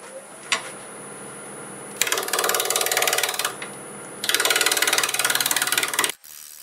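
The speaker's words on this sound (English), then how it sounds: "I'm going to go back to my swept back gouge and do that" A swept-back gouge cuts staghorn sumac wood spinning on a lathe, giving two sustained rough scraping runs of a couple of seconds each over a steady motor hum, close and loud, with no voices.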